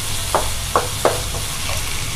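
Tomatoes and onions sauté in a pan for a cauliflower and pea gravy, with a steady sizzle underneath and three distinct scraping stir strokes at a slow, even rhythm, close and clear with no voices.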